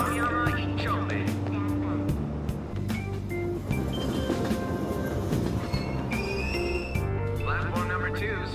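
A train departing a station in Persona 5 rumbles steadily with squealing wheels and clattering cars, loud and continuous, while a platform announcement voice plays over it.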